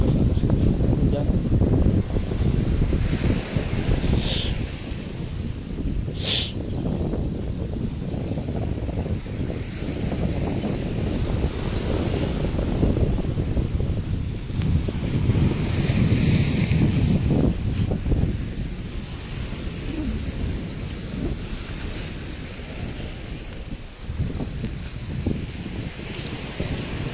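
Big ocean waves and strong wind on the coast at Takkalasi in the rainy season, a continuous loud roar of surf and gusting wind buffeting the microphone, with no talk.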